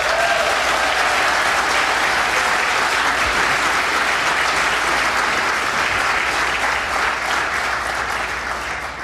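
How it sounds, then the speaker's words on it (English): Sustained audience applause at a Washington government event, dense, loud clapping that continues steadily for about nine seconds with no one speaking. "Let's give them a round of applause."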